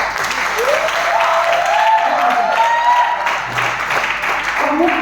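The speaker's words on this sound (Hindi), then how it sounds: "इस बात के लिए तालियां बजनी चाहिए।" Many hands clap at once as an audience applauds during a digital marketing training meeting, a dense, loud, continuous burst with a few voices faintly audible beneath.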